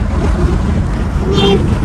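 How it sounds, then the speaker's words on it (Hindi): Strong wind blows hard across the microphone, a loud, dense roaring rush with heavy low buffeting that stays constant throughout. "रात से ही बहुत ज़्यादा तेज़ हवा चल रही है"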